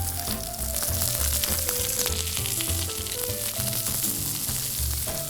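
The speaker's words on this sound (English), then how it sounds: "while we're cooking the steak" Steak sizzles and crackles in a hot pan at a steady, moderately quiet level, with faint scraping and shifting underneath and no talk.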